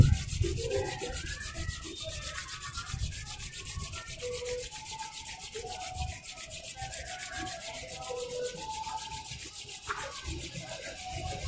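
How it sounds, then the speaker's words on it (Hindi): Two palms rubbing briskly together, a steady soft swishing friction that runs continuously and evenly throughout, close and quiet with no talking. "अब दोनों हाथों को आपस में रब करें।"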